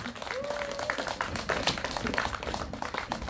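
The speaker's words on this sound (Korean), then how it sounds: "큰 박수로 맞이해주시면 고맙겠습니다" Outdoor candlelight rally crowd in Seongju applauding as a singer is welcomed onto the stage, a fairly faint, steady patter of clapping with a voice briefly audible.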